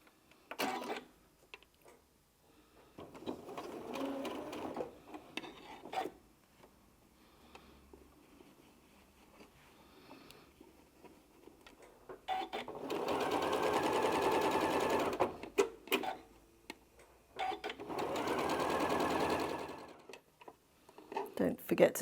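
A sewing machine stitches a small zipped pouch in several separate runs of steady mechanical whirring, strongest in two long bursts later on, with a person talking in the pauses between them.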